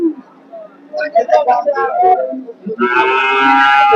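Holstein Friesian calves at a busy cattle market, with a calf's drawn-out moo rising at the end after a stretch of nearby chatter from people talking.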